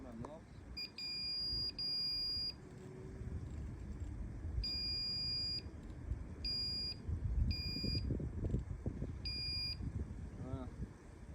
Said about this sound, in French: Ça bip hein.